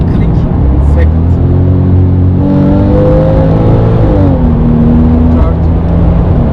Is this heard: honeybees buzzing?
no